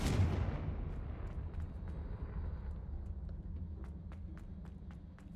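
A Confringo fire spell explosion in Hogwarts Legacy, a loud burst at the start that rumbles and decays, followed by quieter scattered clicks and small impacts.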